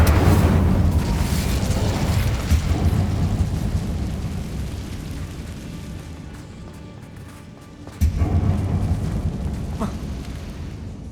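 A fire spell, Incendio, cast in Hogwarts Legacy inside a closed tomb: a loud rumbling whoosh of flame that slowly fades, then a second sharp burst of fire flares up near the end.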